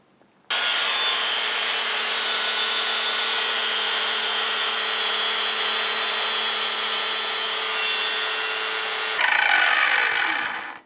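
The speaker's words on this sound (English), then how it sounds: "So now we're going to proceed to make the second cut on that angle iron." An abrasive cut-off wheel grinds through angle iron with a loud, close, continuous high-pitched screech that holds steady for about nine seconds, then the tone changes briefly as the wheel spins down.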